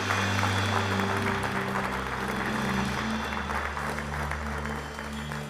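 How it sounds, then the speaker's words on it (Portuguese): A church congregation applauding during a service, broad clapping that fills the room while low sustained instrumental tones hum underneath, gradually easing off toward the end. "Você pode aplaudir a Jesus."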